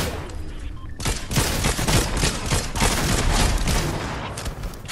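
Heavy, continuous gunfire in a Fortnite trios match, rapid overlapping shots and bursts close and loud for several seconds after a brief lull at the start.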